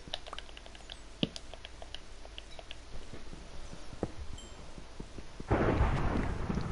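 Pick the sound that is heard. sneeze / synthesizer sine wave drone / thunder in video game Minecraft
thunder in video game Minecraft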